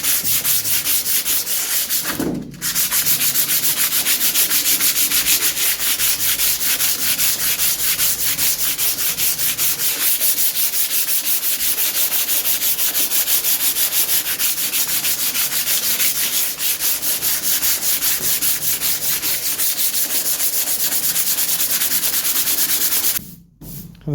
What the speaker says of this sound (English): I've just got like one of these sanding blocks and some 80 grit paper